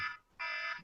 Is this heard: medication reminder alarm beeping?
yes